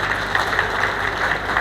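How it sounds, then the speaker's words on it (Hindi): A group of workers at a scaffolding safety training clapping loudly on request, a brief burst of dense, even applause at moderate distance with no talk over it. "एक बार जोरदार ताली बजाओ"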